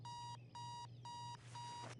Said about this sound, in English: Just an alarm clock going off.